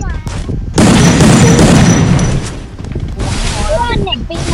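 Gunfire in the Free Fire battle royale game comes as loud, sharp bursts and rattling volleys, close and heavy, with players talking excitedly between the shots.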